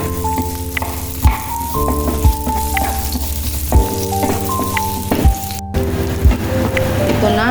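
Onion and garlic hit hot oil in a pan and are stirred, giving a steady close sizzle with repeated scraping knocks of a utensil against the pan, while a faint tonal hum runs underneath.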